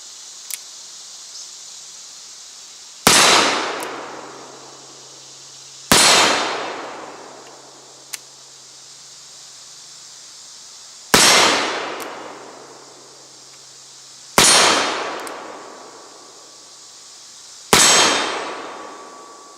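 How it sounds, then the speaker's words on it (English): Five sharp, loud shots from a Colt Richards Mason 1851 Navy cartridge conversion revolver ring out a few seconds apart, each cracking close by and echoing away before the next, with no talking. "I think it's time for me to whack him with the Richards Mason conversion."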